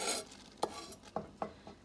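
Onions, green onions and hot pepper being stirred in a pan, with a soft sizzle under about four close, evenly spaced scrapes of a utensil against the pan, no voices.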